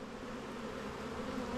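Honey bees buzz inside an open hive during a rainy-day inspection, a dense steady drone close by with no voices.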